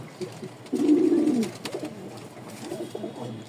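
Rajshahi Giribaz pigeons coo near a market sale, with one strong low, rolling coo early on followed by softer, intermittent cooing amid light background bustle.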